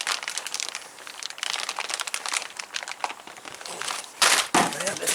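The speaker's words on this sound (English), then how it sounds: "see if I can tear this bag open" A plastic bag holding a replacement drive axle seal for a big truck is crinkled and pulled at up close, with continuous rustling and a couple of sharp louder rips near the end.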